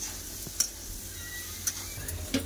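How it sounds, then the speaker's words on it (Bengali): Ridge gourd and prawns fry in a pan with a low steady sizzle, broken by a few sharp spoon scrapes and taps as the mixture is stirred. "তাহলে একসাথে ভালো করে ফ্রাই করে আবার কষে নেবো।"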